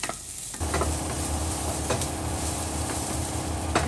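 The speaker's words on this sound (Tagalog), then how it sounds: "At haluin na siya hanggang sa parang medyo transparent yung sibuyas." Onions and garlic sautéing in a pan as a spoon stirs them, with a steady close sizzle and occasional scraping clicks of the utensil against the pan.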